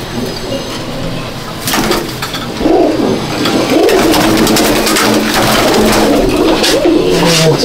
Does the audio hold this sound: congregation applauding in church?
no